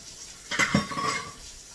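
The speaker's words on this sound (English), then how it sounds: "Pour in a small amount and whisk away." A whisk knocks against a pan as a sauce is beaten, giving a brief cluster of quiet metallic clinks and scrapes over about half a second. It is faint and stands alone, with silence before and after.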